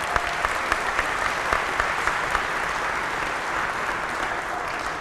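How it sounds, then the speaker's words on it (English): Audience applause fills a banquet hall at a Pennsylvania Sports Hall of Fame dinner, a steady dense wash of clapping with a few sharper individual claps early on, holding evenly throughout. "So how about a round of applause for him?"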